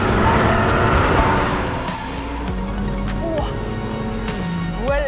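A tuned BMW Z4 M40i driving, its engine droning steadily from inside the car with rising and falling pitch sweeps as it accelerates and shifts, fairly loud throughout.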